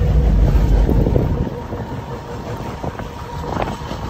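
A train rumbles past with low, heavy rolling noise and some wind buffeting, loud at first and then easing off.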